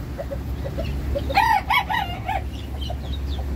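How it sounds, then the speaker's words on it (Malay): A serama rooster crows once in a short, clear call of several rising and falling notes, fairly close, over a low background hum with faint clucks around it. "Ni ayam serama B. Tapi kokok dia memang sedap."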